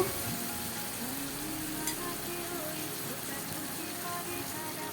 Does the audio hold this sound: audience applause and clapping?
no